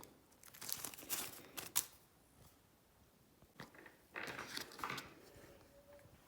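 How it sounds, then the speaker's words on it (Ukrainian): Seeds pour from a scale onto a card and slide into a packet: quiet bursts of dry pattering and crinkling that come in separate clusters against a hushed room. "З ваги воно висипається на візиточку, з візиточки воно пересипається в пакет."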